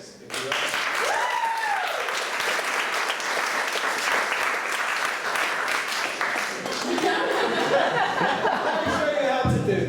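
An audience applauds and cheers for a speaker, Mckenzie Hobbs, with loud, continuous clapping lasting about ten seconds and some laughter and voices mixed in.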